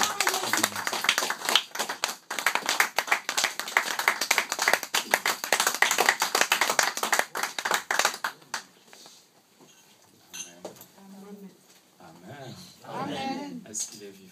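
A church congregation greets a bishop with rhythmic clapping and cheering, loud and dense for several seconds. The clapping then fades into quieter scattered sounds and talk.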